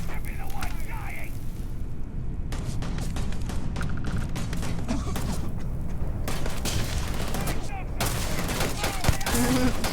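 Video game gunfire in repeated rapid bursts and volleys with some heavier booms, filling the whole stretch at close range. Voices talk over the shooting.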